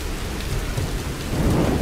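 Heavy rain with rolling thunder in the video game Tomb Raider, a loud dense downpour with a deep rumble swelling toward the end, no voices.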